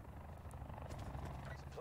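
Helicopter flying overhead in the video game Call of Duty Black Ops 4, a steady low rotor drone holding throughout at moderate loudness, with game noise layered on top and a voice talking faintly beneath it.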